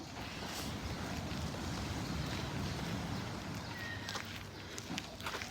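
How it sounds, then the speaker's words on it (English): Sea water lapping by a hotel on Koh Samui, a steady soft wash of small waves heard at moderate distance, with a few faint clicks and light movement noises toward the end. "can you guys hear the water there?"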